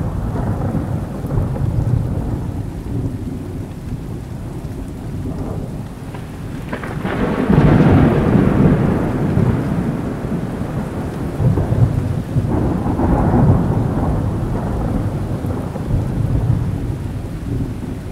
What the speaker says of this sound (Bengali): সন্ধ্যা নেমে এসেছে, সেই সাথে শুরু হয়েছে প্রচণ্ড বৃষ্টি।